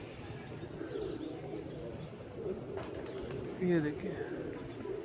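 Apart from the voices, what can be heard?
pigeons cooing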